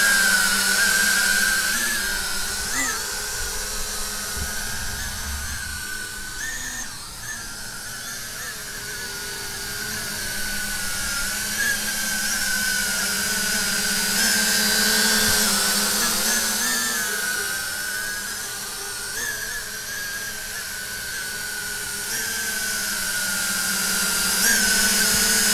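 A JJRC H40WH flying tank drone hovers with a steady, high-pitched whirring buzz of small motors, rising and falling in pitch as it flies, loud and continuous with no voices.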